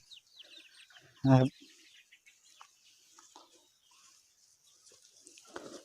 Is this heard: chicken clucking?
yes